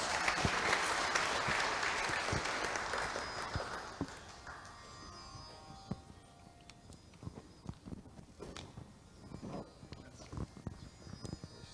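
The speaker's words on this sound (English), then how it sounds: "Let's give a big applause." Loud applause from an audience at a Sunday feast gathering swells at the start, then thins into scattered individual claps and shuffling footsteps as it fades.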